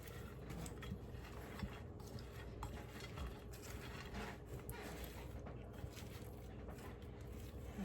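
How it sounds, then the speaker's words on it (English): A spoon stirs cabbage into rice in a metal pot, with steady close scraping and light clinks against the sides over a continuous low kitchen background. "Guess we will be stirring the cabbage into the rice after all."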